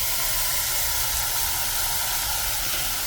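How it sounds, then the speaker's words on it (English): Strawberries sizzle in a saucepan with a steady, dense hiss that holds even and loud from start to finish, close by and with no talking over it. "to the saucepan, I'm going to add the strawberries. And here it's sizzling"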